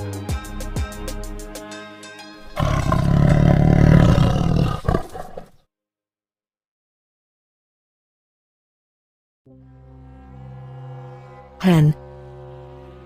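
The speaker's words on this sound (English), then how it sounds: "Cheetah." A loud, rough cheetah growl-roar lasts about three seconds, set between short bright tonal jingles with silence in between.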